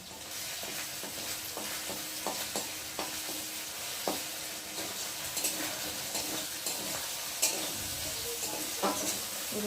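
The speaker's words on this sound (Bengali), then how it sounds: "এখন আমি রসুনটা দিয়ে ভালো করে ভেজে নেব" Potatoes and garlic fry in a pan for a pui shak dish, giving a continuous sizzle broken by repeated scraping and tapping strokes of a spatula as the pieces are stirred.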